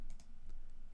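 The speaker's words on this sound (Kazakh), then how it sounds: "Тапты басамын." A single key press on a computer keyboard while working in Microsoft Word, a couple of quick, light plastic clicks close by in an otherwise quiet moment.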